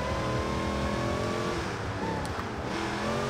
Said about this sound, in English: Oh, you can really hear the supercharger from in here.